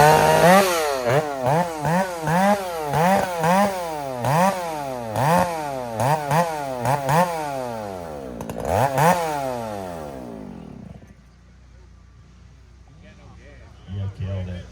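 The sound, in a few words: vintage chainsaw cutting a log at a saw competition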